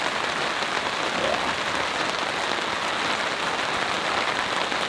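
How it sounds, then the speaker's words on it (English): Steady heavy rain falling on a campsite during a storm, a dense even hiss of drops pattering nonstop on surfaces nearby, with a brief murmured word from someone. "It's going to rain for another couple of hours, like steady rain."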